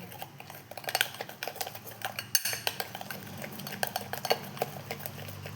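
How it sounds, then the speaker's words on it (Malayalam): A spoon stirs a fruit mixture in a bowl, producing rapid, close clinks and scrapes in an irregular rhythm, with no one talking. "ഞാൻ സ്പൂൺ എടുത്തിട്ടൊന്ന് ഇളക്കട്ടെ ഇതെല്ലാം കൂടി നമുക്ക് മിക്സ് ചെയ്യാം"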